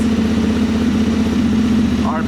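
Honda Transalp 750 motorcycle engine idling steadily just after starting, a constant low hum running the whole time with people talking over it.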